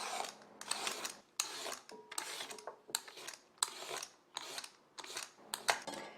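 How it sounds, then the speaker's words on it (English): Fresh burdock root being peeled by hand in a kitchen, heard as about nine rapid, crisp scraping strokes in a steady rhythm, each a short rasping burst separated by brief pauses, close and clear with no talking. "with the burdock root, we do have to peel it first"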